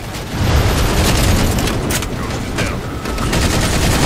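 Dense gunfire and explosions rattle through a Halo 4 battle, a continuous loud barrage of shots and booms with occasional faint voices beneath.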